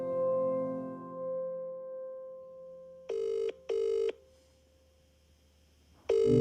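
Telephone call tones: a fading ring decays first, then two short beeping bursts in quick succession, a pause of near silence, and a third burst starting at the end, clear and close.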